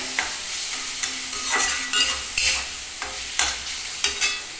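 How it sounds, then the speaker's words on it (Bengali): Onion and chopped ginger are stirred in hot oil, giving a soft bed of sizzle under frequent quick spatula scrapes and knocks against the pan, close by and with no talking. "আদা কুচি কুচিটাও একটুখানি তেলে নাড়িয়ে নিলাম"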